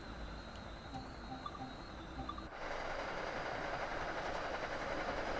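Passing train in the Train Sim World 2 game, Boston Sprinter rush-hour route: steady rolling rumble with faint clicks, then a louder, dense roar from about halfway through as the other train goes by close alongside.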